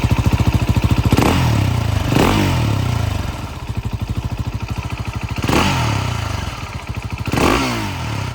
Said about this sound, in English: This is the sound of the exhaust.